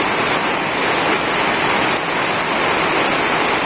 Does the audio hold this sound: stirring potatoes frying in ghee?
no